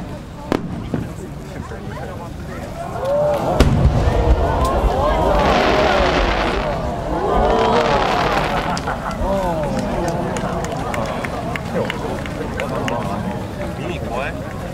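Fireworks display by Yamauchi Enka-ten of Yamanashi at the 2010 Omagari fireworks festival: a sharp burst near 3.5 s followed by sustained crackling and hissing shells, heard from the crowd with people chatting throughout.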